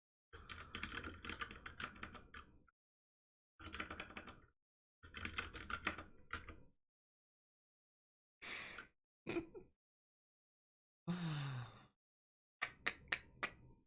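Bursts of fast typing on a computer keyboard, several clusters of clicks separated by silences, close and fairly quiet, with a few isolated sharper taps near the end.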